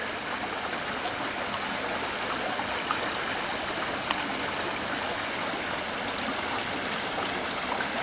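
Storm drainage water runs in a steady, continuous rush, washing away rocks and landscaping at a building entry; the broadband flow stays even and close throughout, with no voices.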